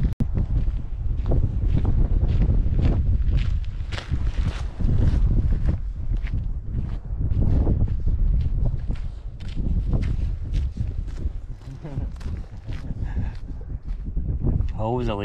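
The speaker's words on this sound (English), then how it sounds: "this wind is quite strong" Strong wind roars and buffets the microphone in heavy gusts outdoors in Scotland, with people talking and footsteps underneath.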